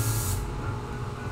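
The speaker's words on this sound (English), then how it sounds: "I'm going to spray off to the sides a couple times." A can of spray adhesive gives a short, steady hiss while misting onto a stencil for airbrushing an F-35 jet model, close and continuous for just over a second with no talk.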